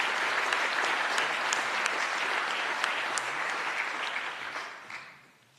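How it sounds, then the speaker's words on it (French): Crowd applause greets the founder and CEO of a regional TV channel at its launch evening: thick, sustained clapping from many people that holds steady, then thins and fades out at the end. "Je vous remercie de l'applaudir"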